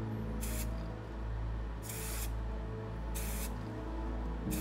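An airbrush sprays paint onto a 3D printed He-Man head in four short, evenly spaced hissing bursts, each about half a second long, over a steady low compressor hum.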